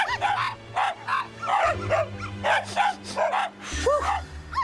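Several puppies yip, bark and whimper in quick, overlapping bursts, close by and fairly loud, with a low hum underneath.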